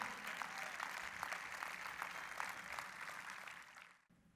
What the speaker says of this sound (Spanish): ¿Habrá alguien que le dé un fuerte aplauso al Señor?